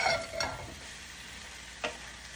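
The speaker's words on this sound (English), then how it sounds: "Now I'm going to add the okras. So I'm going to add the okras now. And mix them very well." Okra stirred in a pan for an Indian-style vegan stew after tomatoes have cooked down, a steady frying hiss broken by two or three short scraping stirs, close and fairly quiet.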